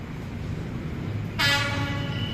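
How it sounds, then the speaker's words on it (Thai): Passenger train 302 arriving at Bang Sue station in Bangkok: a continuous low rail rumble, then a loud horn blast that starts partway through and holds to the end. "ขบวน 302 มาแล้วนะ เป็น หัวจักพันสตอมนะครับทำขบวน"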